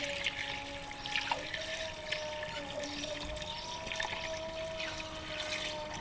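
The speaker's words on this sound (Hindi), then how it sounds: "अब इसमें मैं खुला पानी डाल दूँगी इसके अंदर।" Water pours into a cooking pot holding beef, onions and garlic cloves for white yakhni pulao, making a continuous trickling, splashing flow at close range with a faint tonal ring from the vessel.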